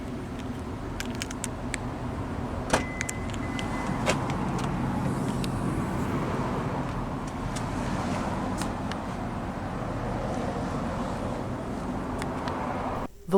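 A 2016 Subaru Legacy 2.5i Premium with a single exhaust idles in a steady, low drone, with a few light clicks and knocks over the top and no voices.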